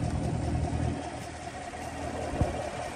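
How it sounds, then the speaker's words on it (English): A 2016 Chevrolet Corvette Stingray 1LT with a naturally aspirated V8 idles steadily, a low, even engine rumble heard up close with a brief thump near the end. "Here's that naturally aspirated V8 that everybody loves."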